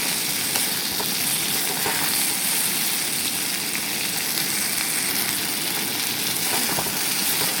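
Chicken cooks down in a pan of oil until the fat separates, giving a loud, steady sizzle and hiss that runs unbroken throughout with no talking.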